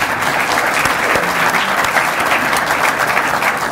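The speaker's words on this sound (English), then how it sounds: "Let's give our panel a round of applause." A breakfast event audience gives a panel on transportation innovation a round of applause, loud close clapping that runs steadily for a few seconds.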